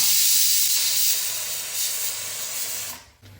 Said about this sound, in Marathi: कुकर बाबा नवीन वाला आपला आता त्याची शिट्टी होणार आहे